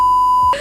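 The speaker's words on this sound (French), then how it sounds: "je mettrai des bips à chaque fois que Maxime dira des noms de famille" A loud, pure steady censor beep covers a surname in a French chat about primary school stories, lasting about half a second before cutting off into faint background sound.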